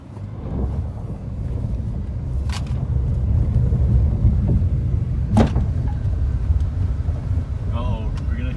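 Steady low road rumble and wind buffeting from inside a moving car heading off to see a Subaru STI and a Mustang at a Copart salvage yard, continuous and fairly loud, with a couple of brief higher squeaks.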